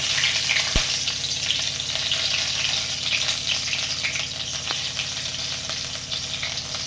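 Green chillies sizzle and fry in hot oil, a steady close crackling hiss with a couple of faint clinks, no voices over it.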